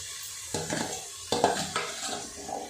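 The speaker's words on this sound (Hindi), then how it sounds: "तो ये जो हमारे जो जितने भी चने हैं सब इसमें हम डाल देंगे भूनने के लिए" Boiled kabuli chickpeas are tipped into a pressure cooker and roasted, giving a soft sizzle with a few scraping stirs and clinks of a spoon against the metal pot, close and fairly quiet, with no talking.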